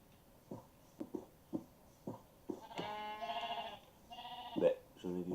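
Sheep in the Minecraft video game give several short, nasal bleats, some overlapping, after a run of soft, evenly spaced tapping clicks.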